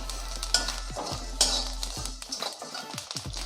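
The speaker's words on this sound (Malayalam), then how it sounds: "നമുക്കിനി ഈ മല്ലിയും കൂടി ഒന്ന് ചൂടാക്കിയെടുക്കാം." Coriander seeds being dry-roasted for a meat masala scrape and rattle under a spoon in a pan, with soft stirring scuffs and light taps against the metal, close up and without talk.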